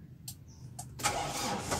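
A Mitsubishi L200 Strada diesel engine is cranked with a couple of brief clicks, then fires and settles into a loud, steady running roar, heard close up during an oil and diesel filter change.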